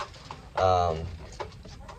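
A single chicken call rises with a harmonic, throaty tone around the middle, with faint fowl noises and light background sounds before and after, in a village.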